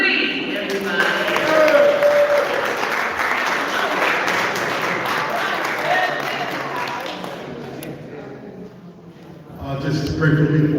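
Sustained audience applause fills a hall, a dense crowd clapping that swells, holds for several seconds, then fades before voices resume at the end.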